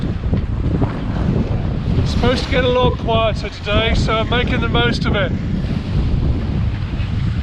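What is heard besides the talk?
strong gusty wind at sea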